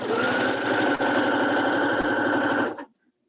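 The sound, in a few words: sewing machine stitching a quilted Christmas pillow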